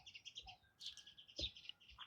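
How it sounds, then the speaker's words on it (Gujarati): Myna birds calling from a tree in a village yard, a quiet run of bright chirps and whistles from a few birds at moderate distance, with no talking. "આ બાજુ કાબર દેખાય છે"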